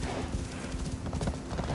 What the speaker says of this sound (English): the horse is basically running with like 500 pounds on his back